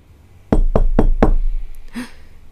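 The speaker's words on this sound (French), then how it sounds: "Quelqu'un vient de frapper à la porte." Four sharp, evenly spaced knocks on a door, loud and close, followed by a short faint clatter and a low thud, set in a dark, tense indoor scene.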